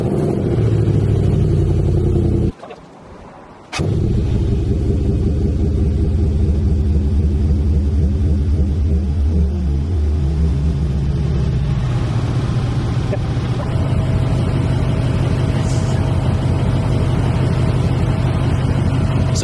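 A Range Rover L322 engine cranks, catches after a short pause, and then runs loud with a deep, steady rumble that holds close and heavy throughout.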